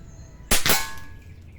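A single sharp report from a .22 caliber PCP air rifle fired at a practice range, a loud abrupt crack with a short ringing tail, close by and with no talk over it.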